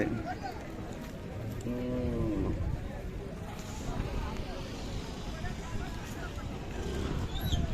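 Khillar cattle, calves and cows, lowing and mooing amid a busy outdoor crowd at a livestock market in Sangola, Solapur, with people talking and general market bustle throughout.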